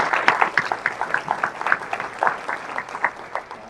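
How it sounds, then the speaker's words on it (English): Audience applause at a department forum: a steady patter of many hands clapping in a room, fairly close and sustained throughout, with no speech over it. "So please join me in one last round of applause."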